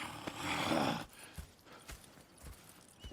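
Horses in the video game Red Dead Redemption 2, soft hoof clops and shuffling with a brief breathy snort, quiet and close.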